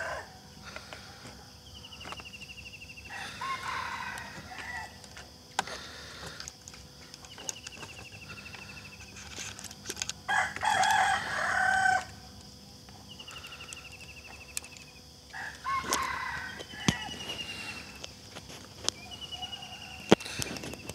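A rooster crows several times in the early morning, faint and distant, over quiet outdoor garden ambience with light rustling while eggplant seedlings are being planted.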